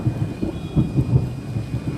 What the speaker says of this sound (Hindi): और बारिश हो रहा है और बिजली कड़क रही है